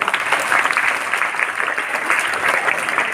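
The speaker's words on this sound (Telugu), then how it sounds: "ఒకసారి గట్టిగా క్లాప్స్ కొట్టండి" Audience at a school International Yoga Day celebration clapping, including the teachers and headmaster, a dense steady round of applause from many hands, fairly loud and sustained throughout with no talking.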